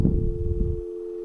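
A telephone tone sounds after extension 002 is dialed on a Trixbox VoIP server: one steady, unbroken pitch holds for the whole moment, with a low rumble underneath that fades out partway through.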